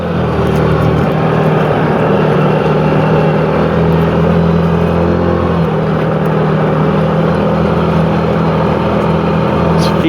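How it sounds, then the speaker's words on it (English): CFMOTO ZForce 500 side-by-side engine braking, a steady droning engine hum with a low rumble, close and fairly loud throughout. "you can hear the engine braking"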